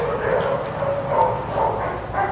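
Dogs at a dog care facility bark and yip in several overlapping bursts indoors, mixed with constant talking.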